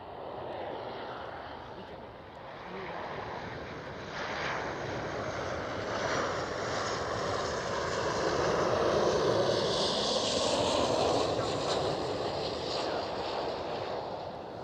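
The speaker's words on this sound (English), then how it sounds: "first arrival. Transavia 737" A Transavia Boeing 737 arrives at Schiphol, a continuous broad jet roar at moderate distance that slowly builds and holds steady.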